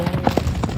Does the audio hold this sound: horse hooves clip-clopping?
yes